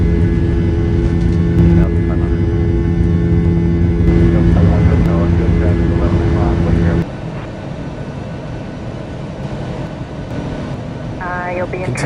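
Boeing 737-800 jet engines spool up to takeoff thrust in a flight simulator game, a loud, steady roar with a whine that drops to a lower, broader rumble partway through, while voices talk over it.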